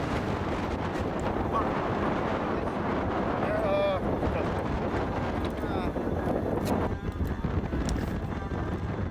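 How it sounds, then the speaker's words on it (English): Strong wind buffets the microphone on a golf course at St Andrews in Scotland, a steady loud rumble lasting throughout with no clear breaks. "I'm playing into the wind here."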